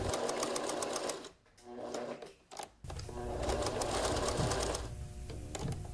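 A sewing machine with a presser foot stitches appliqué fabric in rapid close bursts, pausing briefly partway and then running steadily, heard loud and alone without speech.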